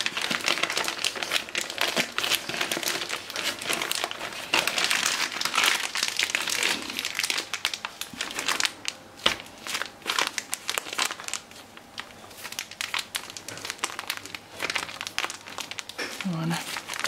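Plastic piping bag being folded and crinkled while preparing a simple vegan dish, with dense, close crackling and rustling that runs throughout, and a voice talking over it at times.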